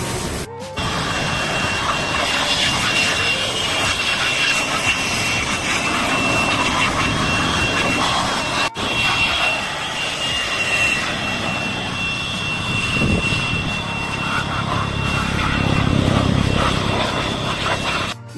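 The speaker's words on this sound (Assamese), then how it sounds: "এতিয়া বাইক ৱাছ কৰিব দি আছোঁ ইফালে।" A bike getting washed during its first servicing, a loud continuous jet-like roar of a pressure washer running steadily throughout with no speech.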